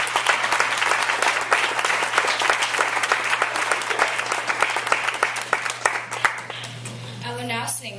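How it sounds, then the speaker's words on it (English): A tribute audience claps in sustained, dense applause at close range, steady for about seven seconds before thinning out as a voice begins singing over a low hum. "Please give them all a round of applause."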